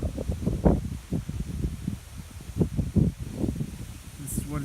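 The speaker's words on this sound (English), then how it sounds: "it's windy out here on the rocks." Wind gusts over an open rocky overlook in the Mount Pleasant National Scenic Area, Virginia, producing a continuous low buffeting rumble with uneven surges across the microphone.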